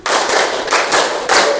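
Three loud volleys of many hands clapping at once ring out from a class of children counting claps in a morning routine, each burst dense and overlapping, spaced evenly and close by without speech.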